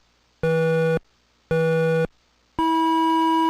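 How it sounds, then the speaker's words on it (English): Starting beeps from the Atari 2600 game Pole Position: three clean electronic tones, two identical half-second beeps a second apart followed by a longer, higher-pitched beep, loud and alone with no talk. "the starting beeps in the Atari 2600 pole position racing game"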